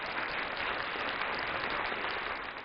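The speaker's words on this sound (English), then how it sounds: "That's supposed to be applause, and that sounds a little more like rain." A canned applause effect at a darts Premier League finale in Phoenix, a steady wash of clapping that hisses evenly like falling rain for a few seconds, fairly faint, with no voices.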